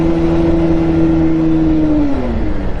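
A Bajaj Pulsar 150 BS6 motorcycle with a clutch plate problem revs steadily without moving off, a close, loud, droning engine note that sags slightly in pitch near the end.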